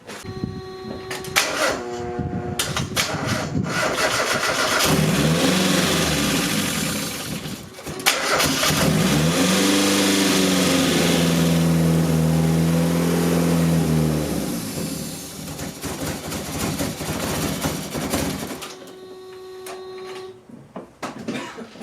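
A Mazda Miata fitted with a DIY turbo kit cranks, fires up and revs, then settles into a loud, steady idle that rises and falls before cutting off.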